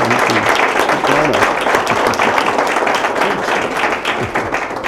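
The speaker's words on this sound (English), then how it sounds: "Let's give Bill a round of applause." A lecture audience gives a guest speaker a sustained round of applause, dense steady clapping from many hands filling the room at a loud, even level throughout.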